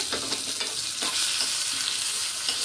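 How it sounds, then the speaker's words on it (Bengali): Steady sizzling of garlic, dried red chilli and bay leaf frying in hot oil for a dhaba-style lasuni palak paneer, with occasional stirring scrapes, close and continuous, no talking. "এটাকে একটু ভালো করে এখানটা ভেজে নিতে হবে এই মশলাটা দিয়ে। কি না, শুকনো লঙ্কা, রসুন আর তেজপাতা।"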